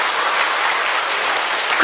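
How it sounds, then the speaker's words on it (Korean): A church evangelism meeting audience applauds loudly and steadily, a dense wash of clapping filling the hall, with a faint voice surfacing at the very end. "박수 한번 크게 쳐요"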